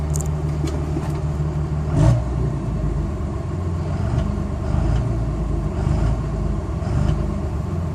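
A tuned diesel engine of an early third-generation Cummins truck, running a full tune with no pilot injection, runs steadily close by, a constant low rumble with light mechanical clatter and no voices.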